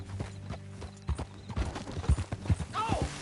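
Horse hooves clip-clop in a Red Dead Redemption 2 ride as a rider sets off, the steps irregular and close, with a whinny near the end and bits of talk around them.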